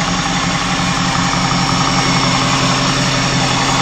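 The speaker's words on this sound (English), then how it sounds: "Very quiet, very smooth running engine." A clean 1996 Lincoln Mark VIII's all-aluminum 4.6 liter dual overhead cam V8 idles smoothly and quietly, a steady low rumble with an even pulsing beat and no talking.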